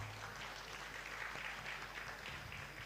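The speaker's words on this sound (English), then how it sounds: "Can we give them a round of applause?" Quiet, steady applause from a conference audience for a women-in-tech panel at a plenary session, heard from a distance as a dense, even wash of clapping without voices.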